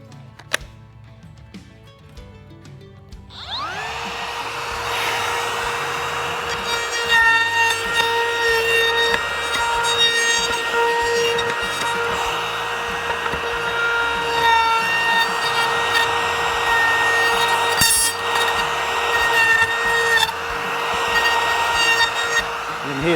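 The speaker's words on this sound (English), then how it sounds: "Probably run the router around that just to open that up a bit more." A router trims a square edge on a piece of wood for a homemade tractor chainsaw holster. The motor spins up after a quiet start, then holds a loud, steady high whine with a ringing tone while it cuts.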